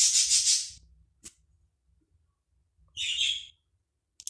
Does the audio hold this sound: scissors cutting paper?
no